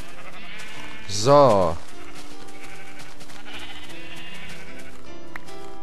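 A single loud sheep bleat from the video game Minecraft, quavering and short, over a steady game backdrop while someone speaks German.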